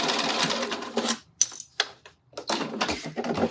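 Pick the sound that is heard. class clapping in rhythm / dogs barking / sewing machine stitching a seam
sewing machine stitching a seam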